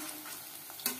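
Chicken chops frying in hot oil, a faint, steady sizzle with a brief louder crackle near the end of a very short stretch.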